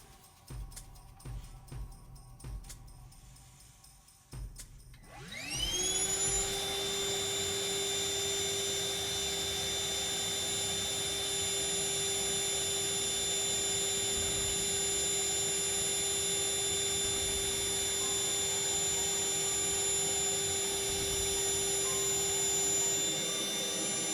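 A Ryobi project vac powered by the small, low-capacity P102 battery starts up after a few seconds of quiet handling and then runs at a steady, loud, whining pitch that holds without a break.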